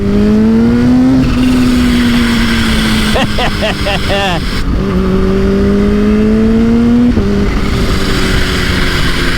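A supercharged Kawasaki H2 motorcycle accelerates loudly up through the gears, engine pitch climbing and dropping at shifts, with a sharp supercharger blow-off chirp between pulls, all heard close up under a rider's voice.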